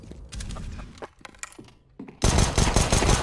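Rapid spammed gunfire in Counter-Strike, scattered quick clicks and shots at first, then a loud, dense burst of continuous automatic fire filling the final second.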